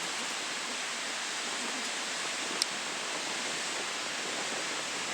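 A waterfall in Fox Glacier park, New Zealand, after heavy mountain rain: a steady, broad rushing roar that holds evenly throughout with no other sounds.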